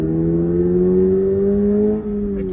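A Toyota GR86 sports car with a six-speed manual revs hard under acceleration, its steady engine note climbing smoothly and loudly without a break, close and continuous throughout.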